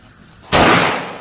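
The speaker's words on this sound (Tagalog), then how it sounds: "Ayun, at sumabog ang bao." A coconut shell bursts apart with a single sharp, loud crack, a broadband bang that hits suddenly and then decays into a noisy rushing tail.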